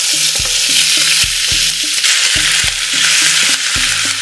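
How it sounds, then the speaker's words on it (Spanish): Chicken frying in hot oil for a chicken and broccoli dish crackles in a loud, close, continuous sizzle, with repeated low knocks and scrapes of stirring against the pan. "Mi aceite ya está bien caliente, así que vamos a agregar nuestro pollo."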